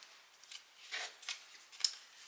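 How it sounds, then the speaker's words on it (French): Tarot cards being combined and shuffled at close range, a faint series of soft papery riffles and brushing swishes with one sharper snap near the end. "Je vais combiner les cartes."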